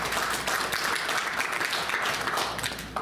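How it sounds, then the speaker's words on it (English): Congregation applauds an anniversary couple at a church service, steady mid-distance clapping from a crowd sustained for a few seconds, fairly soft overall. "Give me a round of applause."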